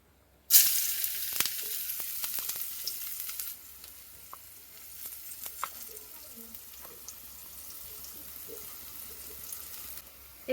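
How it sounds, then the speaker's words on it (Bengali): Carrot hitting hot oil bursts into a sharp, loud sizzle that holds for a few seconds, then settles into a quieter, steady crackling fry with small pops and stirring scrapes. "তেল দিয়ে দিব, এবার গাজরটা একটু ভেজে নেব।"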